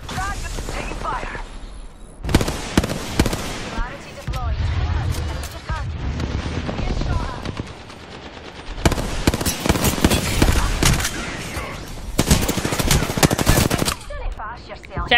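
Bursts of automatic gunfire from an Apex Legends match, several loud sustained volleys broken by short lulls, with in-game voice callouts and player speech mixed in.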